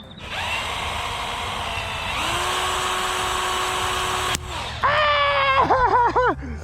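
A power drill spooling fishing line onto a reel whirs steadily at high pitch, pauses, then starts again, finishing with a few quick stuttering bursts as the speed rises and falls.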